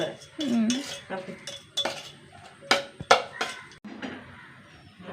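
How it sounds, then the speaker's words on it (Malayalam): Mango curry is stirred in a pot with a metal spoon, a close series of scraping strokes and clinks against the pot's sides, uneven in rhythm with brief pauses. "ഇനി ഇളക്കുക ഇത് ഇളക്കാണ്ട് ഭംഗിയില്ല"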